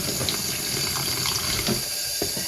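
Tap water runs steadily into a sink as dyed yarn is rinsed, a close, constant hissing splash with small gurgling variations and no talking.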